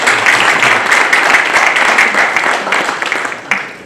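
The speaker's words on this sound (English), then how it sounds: "I think we can clap hands for them." An audience at an agriculture and business workshop claps together, a loud, dense burst of many hands with a few sharper individual claps standing out, tapering slightly toward the end.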